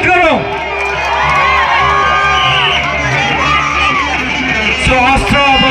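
At a live rock festival concert, a crowd cheers, whoops and yells loudly and continuously, with voices rising above a dense wash of noise.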